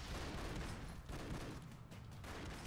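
Rapid bursts of gunfire from the side-scrolling action game Broforce, dense and continuous with heavy explosive booms layered throughout, loud and without talk.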